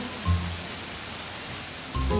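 Water from a cartoon shower sprays in a steady, soft hiss like falling rain, with two brief low thumps at the start and end.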